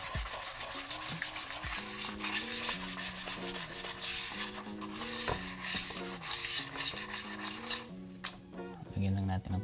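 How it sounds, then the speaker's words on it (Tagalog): Sandpaper rubs the surface of a new mag wheel on a Yamaha Mio Sporty scooter, making steady, close rhythmic scraping strokes under continuous background music. "Konting liha din dito sa surface lining ng ating"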